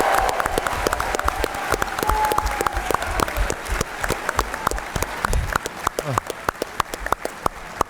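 A podcast audience gives a final round of applause for a game-show champion, dense steady clapping close and loud throughout, with a few whoops and voices in the crowd.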